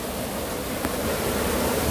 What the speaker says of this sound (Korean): 아, 여기도 폭포수예요.